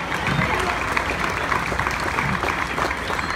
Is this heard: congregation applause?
yes